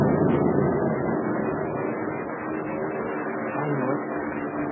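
A steady, droning aircraft engine rumbles continuously, a broad low roar that holds level throughout with no clear rise or fall.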